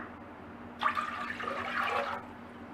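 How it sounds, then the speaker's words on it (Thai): Plain water and coconut water pour into a cooking pot, making a steady splashing stream that lasts about a second and a half, heard alone and fairly quiet. "เทน้ำเปล่าแล้วก็น้ำมะพร้าวลงไปในหม้อเลยค่ะ"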